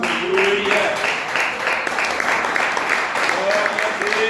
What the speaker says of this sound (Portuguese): louvar a Deus com as palmas